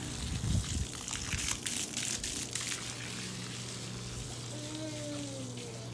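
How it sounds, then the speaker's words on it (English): Water gushing from a garden hose onto dead, dry grass, a steady rushing spray that starts with some splashing and settles into an even flow, heard close by. "Actually, I'm gonna water it right now."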